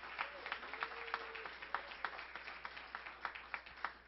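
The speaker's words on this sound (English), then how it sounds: "let's give our mothers another round of applause" Church congregation applauding mothers during a sermon, a fairly faint, steady patter of scattered clapping heard from a distance for several seconds.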